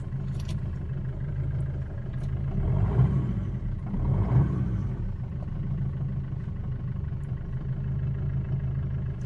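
A Maruti Swift Dzire diesel car engine runs with a steady low rumble, swelling briefly twice as if lightly revved, heard close and without talking throughout.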